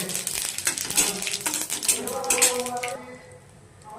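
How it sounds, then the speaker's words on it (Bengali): Dried red chillies sizzle in hot oil for tempering, a bright crackling hiss with stirring clinks against the pan, fading quieter toward the end. "এবার আমি তুলে দিয়ে আর শুকনো লঙ্কা ফোড়ন দেব"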